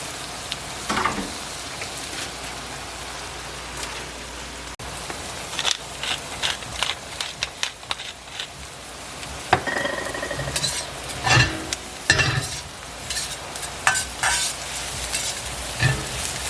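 Steady crackling sizzle of sausage frying in a pan, with occasional clinks and scrapes of utensils against the cookware.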